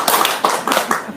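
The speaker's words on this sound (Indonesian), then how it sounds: "Tepuk tangan." Brief burst of clapping from an audience at a religious talk, a handful of quick, loud claps close by.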